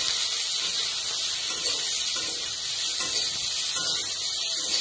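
A steady, close sizzling hiss of garam masala, chillies and black pepper frying in hot oil, continuing evenly throughout with no voices.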